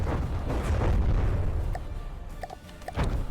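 Light bomber bombs from a full salvo exploding in From the Depths, a burst of deep booms and rumbling blasts followed by a few sharper pops, moderately loud.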